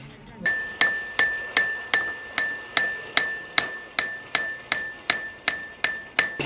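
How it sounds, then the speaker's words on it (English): A rounding hammer strikes metal in a steady rhythm, about a dozen ringing blows evenly spaced, each with a bright metallic tone that decays quickly, as old horseshoes are reworked at a prairie heritage days event. "This is what they call a rounding hammer"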